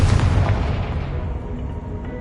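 A Confringo blasting-spell explosion erupts as a deep, booming burst right at the start, then rumbles and fades over about two seconds.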